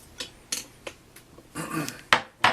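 Chopped poblano peppers tumble into a hot pan for chile con carne, giving several sharp clanks and scrapes of metal and utensils, loud and close, spaced irregularly with a busier rattling stretch near the end.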